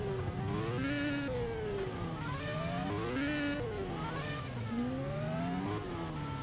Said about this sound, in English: Some more burnouts for the front runners.